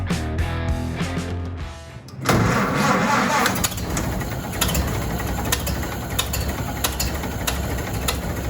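A Ford Model A engine cranks with a rhythmic churning, catches abruptly, and settles into a steady, loud idle after an exhaust repair, heard close up in a garage.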